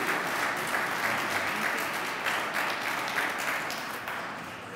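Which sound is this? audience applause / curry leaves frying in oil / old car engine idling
audience applause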